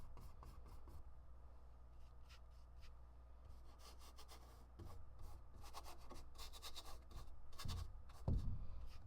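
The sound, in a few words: paintbrush rubbed back and forth to remove excess paint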